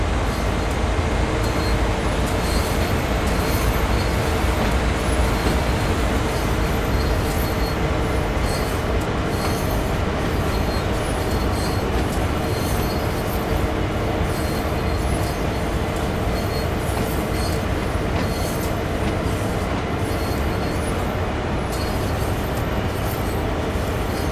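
A CSX freight locomotive in the Train Sim World 6 game pulls away from Framingham toward Everett near Boston, a dense, continuous rumble of engine and rolling wagons with faint wheel squeal throughout, loud and unbroken, no talk.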